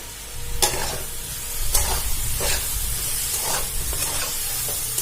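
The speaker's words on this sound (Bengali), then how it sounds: "আমি এবার এর মধ্যে দিয়ে দেবো আদা আর কাঁচা লঙ্কা বাটা।" Ginger and green chilli paste fries in a pan for a vegetarian potato and papaya dalna, giving a steady, loud sizzle broken by sharp scraping strokes of a spatula at irregular intervals.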